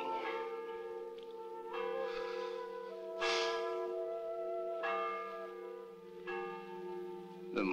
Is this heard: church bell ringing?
yes